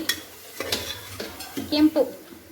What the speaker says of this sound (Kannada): ಕೆಂಪಾಗೋವರೆಗೂ ನೀಟಾಗಿ ಫ್ರೈ ಮಾಡ್ಕೊಂಡು ಎತ್ತಿಟ್ಕೋಬೇಕು.